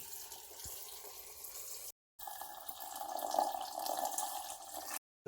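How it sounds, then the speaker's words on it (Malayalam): Lukewarm boiled water poured into a jar of salted fruit, a steady mid-level liquid stream running for a few seconds, broken by a short silent gap and then resuming slightly louder. "തിളപ്പിച്ച് ആറ്റി ചെറു ചൂടുവെള്ളം ഇതിനകത്തോട്ട് ഒഴിച്ചു കൊടുക്കുക"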